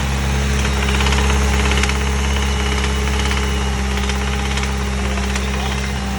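An Evos engine idles with a rough, rapid ticking and knocking riding over its low, steady hum, the metallic taps repeating quickly and evenly throughout at close range before cutting off abruptly at the end.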